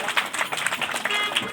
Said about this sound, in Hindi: तो तालियों की आप लोग, कोई कमी नहीं होनी चाहिए तालियों में आप लोगों की